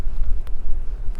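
Low, rumbling wind buffets the microphone in an unsteady roar, with faint airy gusts rising and falling throughout.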